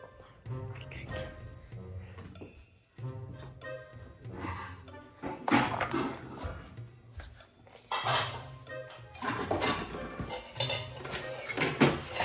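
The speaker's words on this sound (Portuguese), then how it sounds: "Vou pegar uma panela, vou bater" Metallic clanks and clatters of a pan being struck ring out repeatedly and fairly close, mixed with voices talking in the background.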